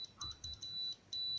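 A thin electronic tool buzzer beeps in short bursts of uneven length, fairly faint, with low background noise underneath.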